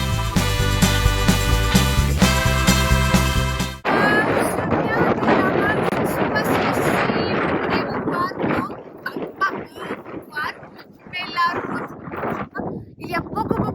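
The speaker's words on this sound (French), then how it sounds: "Il y a beaucoup de vent" Strong wind on a mountain road roars and buffets the microphone in a steady rushing noise, following a few seconds of music, with a voice partly buried under the gusts.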